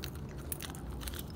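A dog chews and bites on something nearby in a steady stream of small crunching, gnawing sounds, fairly quiet and with no talking.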